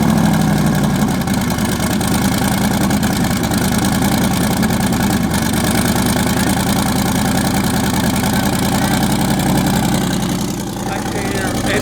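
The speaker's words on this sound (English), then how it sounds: "I never heard an exhaust in the front of the car." An LS-swapped twin-turbo Mercedes E63 AMG idles with a loud, steady low engine and exhaust drone throughout, heard up close, with talk over it.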